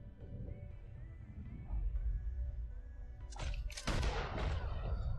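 A rifle shot at a pronghorn in Red Dead Redemption 2 cracks out sharply after a stretch of quiet game ambience, followed by a second burst and a rumbling tail.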